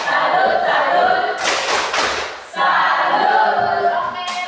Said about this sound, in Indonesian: kita tepuk salut untuk kelompok 2